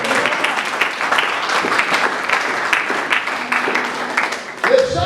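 A church congregation applauding during worship, a continuous dense patter of clapping at steady loudness with voices mixed in.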